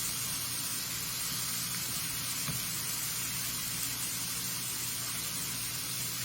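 Shrimp searing in a hot pan for blackened shrimp, a steady, dense sizzle and hiss that holds evenly throughout without pauses.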